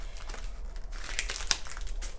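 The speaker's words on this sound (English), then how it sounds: "I'm going to open this zipper up so you can see what it looks like when it comes out of the package." A plastic package holding an invisible zipper for a Vogue 9050 sheath dress is pulled open, giving close, continuous crinkling with a few sharper rustles partway through, heard on its own.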